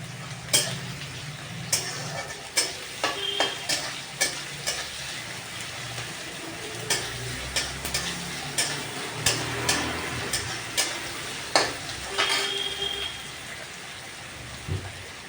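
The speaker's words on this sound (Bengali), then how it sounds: "তো আমি প্রথমে তেল গরম হয়ে গেলে কড়াইতে রসুন আর পেঁয়াজটাকে ভালো" Garlic and onion fry in hot oil in a kadai, with a steady crackling sizzle and regular sharp spatula taps against the pan.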